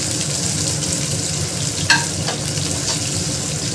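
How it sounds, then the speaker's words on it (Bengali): Parboiled vegetables for Maggi noodles frying in a hot pan: a loud, steady sizzle with a couple of brief stirring scrapes, close and continuous. "সবজিগুলো ভেজে নেব।"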